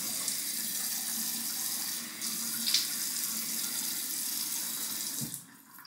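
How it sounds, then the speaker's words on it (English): Warm water runs steadily from a tap into a shaving bowl, a close, quiet, continuous splash with a small clink partway through before the flow cuts off near the end. "I'm gonna add some warm water"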